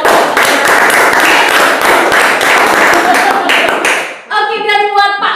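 A crowd at a coffee event claps loudly and densely for about four seconds, then the applause cuts off and a voice speaks.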